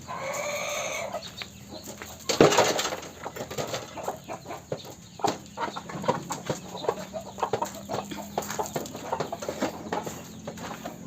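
Chickens, turkeys and ducks clucking and calling at feeding time as they eat feed mixed with azolla, with a sharp knock near the start and steady scattered pecking and bird noise throughout.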